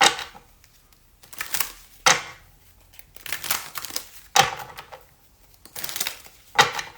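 Tarot cards being shuffled by hand, giving four crisp papery riffle bursts separated by short pauses, close and moderately loud.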